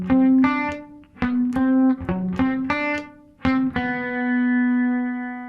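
Electric guitar plays the full riff sequence from a song, with sharply picked notes over a held low note, ending on a long ringing chord, close and clean with no voices.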